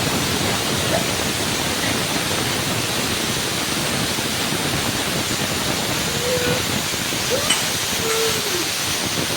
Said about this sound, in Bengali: তারপর আমরা একটু ওয়েট করলাম সিটির জন্য। এরকম আমাদের সিটি দিয়ে দিয়েছে।